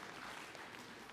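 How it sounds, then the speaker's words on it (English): An audience at an Indigenous clean energy forum applauds, giving a brief dense wash of clapping from many hands that stays steady and fairly faint throughout. "Another round of applause, please, for Tyler"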